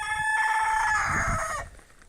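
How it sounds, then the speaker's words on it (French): A rooster crows loudly and close, a long strained cock-a-doodle-doo that trails off, with faint clucking from other fowl around it. "Et donc les coqs, ils sont beaux"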